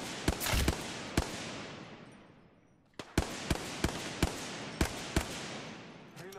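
Gunfire in the Apex Legends video game: a quick cluster of sharp shots, a pause, then a steady run of single cracks spaced roughly half a second apart over a noisy, fading background.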